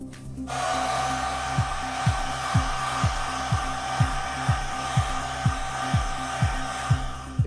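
A handheld hair dryer blows steadily through a precision haircut, a loud continuous airflow roar with a rhythmic pulsing thump repeating about every half second throughout, with no talking.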